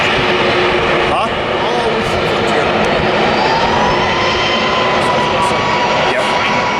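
A jet airliner landing, its loud, sustained engine roar filling the scene steadily, with a faint voice under it.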